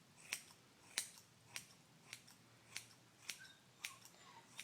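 Scissors trim the tail fur of a basenji dog, eight or so crisp, evenly spaced snips about every half second, close and quiet.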